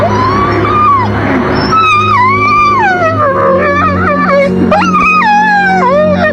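A dog howls and whimpers in long rising and falling wails, loud and close, with yips breaking in over a steady background hum, as a dog is reunited with its owner after three years.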